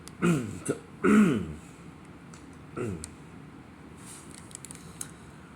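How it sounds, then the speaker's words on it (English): Someone clears their throat several times, two strong rasping efforts then a softer one, followed by small clicks in a quiet room. "Can't clear my throat now."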